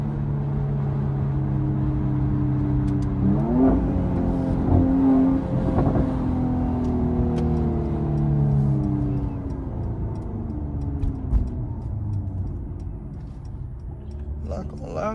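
A Mercedes-AMG C43 accelerates hard through city streets, its engine note climbing through rising gear pulls, then settling into steady close cabin rumble.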